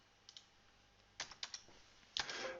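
Quiet keystrokes on a computer keyboard while text is typed into an image editor, a few sparse light clicks followed by a quicker cluster and a final louder tap, close but faint, no talking.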